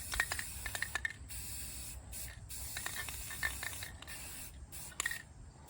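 Dark hunter green spray paint hisses from an aerosol can onto an old LP tank being made into a pumpkin, in short bursts and longer steady sprays with brief pauses, close by.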